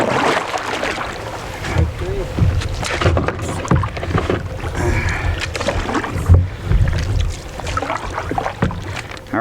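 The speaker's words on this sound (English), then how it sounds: "All right, John, let's paddle on." A canoe is paddled through Collins Inlet near Mill Lake on Georgian Bay, with irregular splashes and strokes of the paddles and knocks against the hull, close and moderately loud over wind noise.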